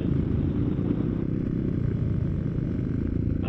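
A motorcycle on a winding mountain road, its engine a steady low drone that stays close and even throughout, with no talk over it.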